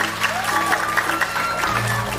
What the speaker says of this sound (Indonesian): tepuk tangan nuhun dari pemerintah